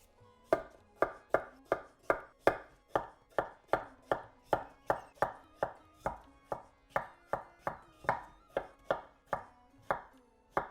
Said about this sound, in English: I'm going to peel and chop them up into small cubes